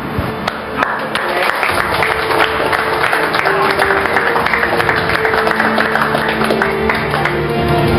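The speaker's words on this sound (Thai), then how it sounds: "ผมขอปรบมือให้ทุกคน" Sustained applause from a gathering of police officers at a station meeting: dense, steady clapping that fills the whole stretch, with a faint crowd murmur beneath.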